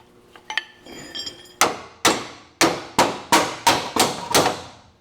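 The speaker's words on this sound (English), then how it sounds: "Not hard, as you can see, just tap it through." A bolt is hammered through the transmission cross member of a 1968 Mopar B-body during a T56 gearbox install, giving eight sharp metallic taps in a steady rhythm after some quieter handling clatter, close and fairly loud.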